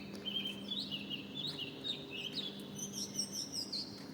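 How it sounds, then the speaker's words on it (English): Recorded birdsong plays from a loudspeaker in China, a faint series of repeated chirps and short whistled phrases over a steady low electrical hum, with no talk. "these sounds coming from actually this loudspeaker. This loudspeaker actually producing these sounds"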